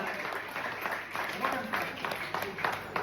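A charity concert crowd in Chernivtsi keeps up steady, moderately loud applause throughout, with a person speaking over the clapping.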